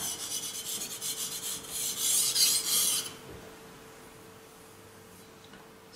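A knife blade scrapes across a Suehiro whetstone in a few quick rasping strokes that grow louder, then stop, leaving a quiet room hum with no speech.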